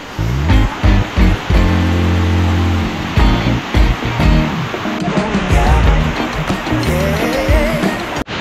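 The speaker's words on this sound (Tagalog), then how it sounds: "Narinig ko na yung agos ng tubig mula dito." Kaparkan Falls, terraced waterfall in Abra, pouring with a broad steady rush of water under footsteps and handling noise, close and fairly loud.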